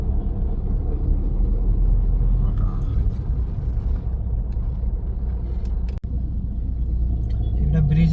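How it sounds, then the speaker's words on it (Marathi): Cars crawl forward in slow traffic on a road near Chouk and Panvel, heard from inside a vehicle as a steady low engine rumble and road hum, with a sharp click midway and faint sounds outside. "आत्ताशी हळूहळू हळूहळू एक एक गाडी पुढं सरकतीये, त्याच्या मागोमाग आपली गाडी पण सरकते"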